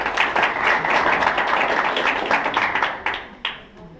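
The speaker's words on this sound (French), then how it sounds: "On les applaudit." Audience at a university ceremony applauding, dense clapping from many hands that stays strong and then thins out, with a few last claps near the end.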